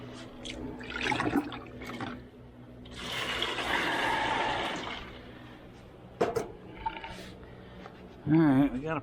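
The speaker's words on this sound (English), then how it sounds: "I'm going to put a little more water in it." Water is poured into an Arctic Cove swamp cooler in a shop, a splashing gush of a couple of seconds with a few shorter trickles and sloshes around it, while a person talks nearby.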